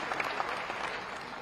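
A large audience at a Hindu religious conference and yagna in Raipur claps warmly to welcome a guest, dense steady applause filling a big venue.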